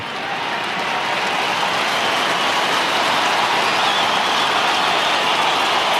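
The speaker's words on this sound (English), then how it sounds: "It was the cheer for Adam Simpson who was up on the big screen" A large football stadium crowd roars in a sustained, dense wall of cheering during an AFL match between West Coast and Geelong, loud and steady throughout with no voices standing out.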